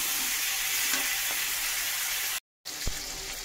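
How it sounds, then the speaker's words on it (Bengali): Bhetki fish fat sizzles and hisses in a pan, with a few soft stirring knocks and a momentary break in the sound before the frying resumes. "ভেটকি মাছের তেলটাকে দিয়ে ভালো করে ভেজে নেব।"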